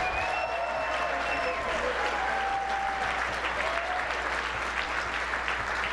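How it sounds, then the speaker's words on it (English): Applause at an arts champions gala, a steady dense wash of clapping from a crowd throughout, with a faint tonal hum underneath and no voices standing out. "One more round of applause for all our champions."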